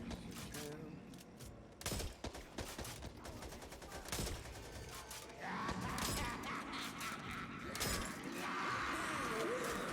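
Rapid gunfire in the Back 4 Blood zombie shooter, a dense series of close, sharp shots and bursts carrying on throughout the clip, with a voice heard briefly in the mix.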